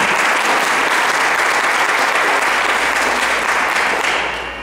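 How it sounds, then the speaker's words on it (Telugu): An audience claps loudly for a mridangam player at a Rukmini Kalyanam performance: dense, sustained applause that holds steady, then begins to fade near the end. "ఈయనకి ఇంకొంచెం గట్టిగా చప్పట్లు కొట్టండి"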